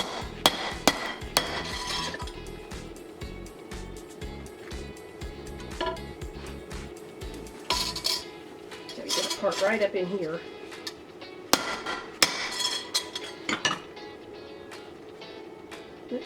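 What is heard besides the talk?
sledgehammer flattening a copper bracelet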